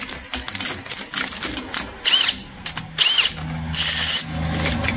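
A power drill bores into an ABUS bike lock, running in several short bursts with brief pauses and a longer grinding stretch near the end, close and loud.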